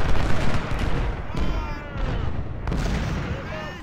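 Cannon artillery fire in the Civil War video game Ultimate General, dense rumbling booms and crackling volleys layered continuously, loud and heavy, with a few sharper bursts cutting through.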